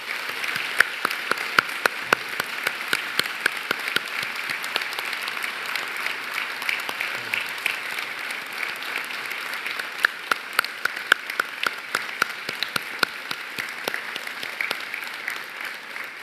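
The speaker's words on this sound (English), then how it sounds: "join me in applauding their wonderful achievement" Sustained audience applause fills a university graduation ceremony hall, dense steady clapping from a large crowd with sharper individual claps standing out near the front, continuing unbroken without speech.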